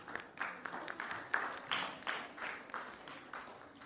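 Applause from the audience at a storytelling competition grand finale, a soft, steady patter of many hands clapping at a distance, quiet and continuous with no talk over it.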